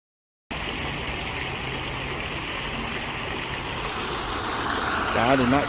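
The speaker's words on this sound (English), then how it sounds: "It's a waterfall feature. Water fountain." A waterfall water feature at Elvis' birthplace in Tupelo gives a constant close rush of falling water that starts abruptly and holds steady, with a voice briefly heard at the end.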